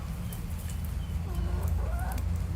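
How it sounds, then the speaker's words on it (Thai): Chickens cluck while being fed outdoors on a cool morning after rain: soft, scattered clucks and calls over a constant low rumble of background noise. "วันนี้จะพามาให้อาหารไก่"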